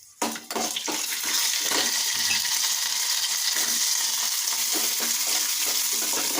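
Peanuts fry in hot oil for a tempering over a high gas flame, a steady loud sizzle that flares sharply at the start and then holds dense and even throughout.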